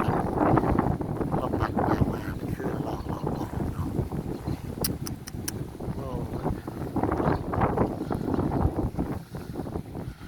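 Wind gusts buffet the microphone in a low roar, with a voice talking underneath throughout.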